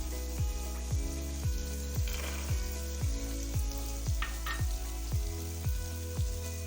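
Two tablespoons of chopped chillies go into softened tomatoes in a pan for vegetable pulao, setting off a continuous close sizzle beneath a regular ticking pulse.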